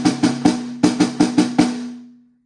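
Snare drum stroke rolls from the first measure of a drum part, two quick groups of roll strokes played as crisp, evenly spaced hits with a ringing pitched overtone that decays after the last stroke.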